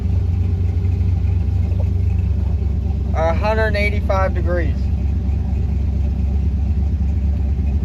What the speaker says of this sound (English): And we're sitting here idling.